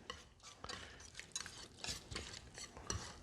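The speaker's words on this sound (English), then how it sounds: "just give that a little stir here" A utensil stirs flour into gravy in a pan over medium-high heat, giving close, quiet scraping strokes in an uneven rhythm with a soft sizzle underneath.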